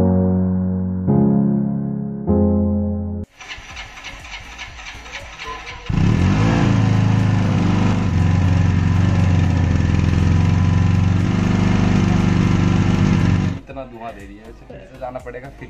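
A smoking, faulty motorcycle engine is started: short sputtering bursts, then it catches and runs loudly and steadily at close range for several seconds before settling, with a person talking at the start.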